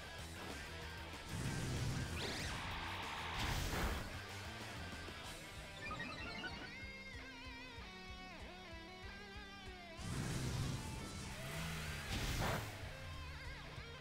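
The Nitro Charge move plays out in a Pokémon Scarlet battle, game music running under repeated crashing impact bursts and whooshes, a couple of heavy hits recurring through the sequence with no talking.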